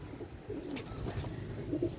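Soft, low cooing of Teddy pigeons murmurs through a quiet background, with a brief higher chirp near the middle.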